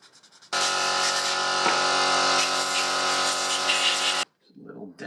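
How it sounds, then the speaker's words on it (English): Wet 2000 grit sandpaper is worked against a second-hand motorcycle brake caliper piston, giving a steady, close, buzzing rasp that runs unbroken for several seconds and then stops abruptly, followed by quiet handling noise. "So now I also got 2000 grit sandpaper."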